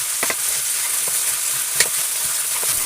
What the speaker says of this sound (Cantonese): 油熱下醃好嘅肉片，大火炒至肉片變色約3分鐘